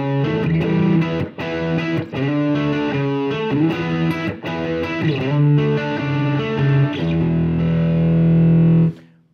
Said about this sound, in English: Now on the other side, I've got a little bit of a warmer sounding distortion.